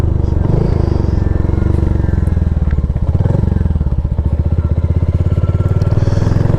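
A Royal Enfield Hunter 350 motorcycle riding through town, its single-cylinder engine thumping in a steady, close, loud rhythm while a rider talks over it.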